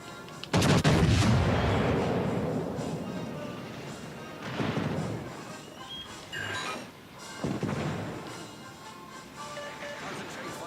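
Heavy warship guns firing in World of Warships: Legends, several loud booming salvos with long rumbling decays, under a game announcer's voice.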